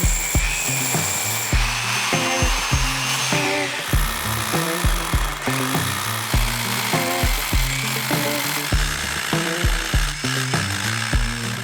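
A drill bores a second hole through concrete near rebar, grinding steadily and loudly with a rapid, rhythmic knocking that pulses throughout without pause.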